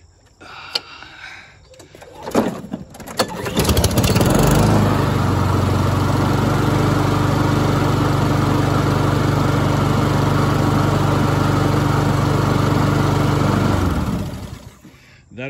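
A Honda lawn mower, freshly refuelled after its stale fuel was drained, cranks with a few rough pulls and then catches, running loud and steady close by for about ten seconds before shutting down.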